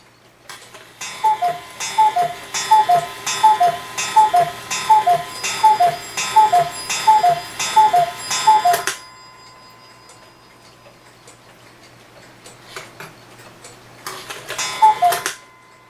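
A Hebert Herr 8-day wall clock ticks loudly and steadily at close range for about nine seconds, then goes quiet before the ticking briefly returns near the end.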